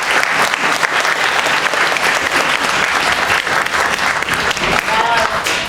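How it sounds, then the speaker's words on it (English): Sustained applause from a school audience at an elementary school orchestra and band concert, many hands clapping steadily in an indoor hall with a few voices faintly mixed in. "I want to give them their applause also"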